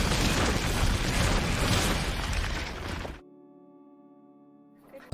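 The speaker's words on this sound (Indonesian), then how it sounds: "Ledakan besar pun akhirnya terjadi." A big explosion tearing apart a bunker, a loud dense roaring blast that cuts off abruptly into near silence with a faint lingering tone and a small pop at the end.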